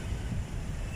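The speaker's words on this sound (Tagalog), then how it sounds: "Makon dito, mahangin dito." Wind gusts across an outdoor mall parking lot at SM Center Las Piñas, a steady low rumble buffeting the microphone, faint and continuous for a brief moment with no voices.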